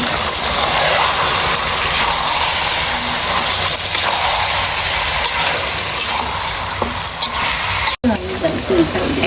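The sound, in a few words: meat being fried in oil (kosha)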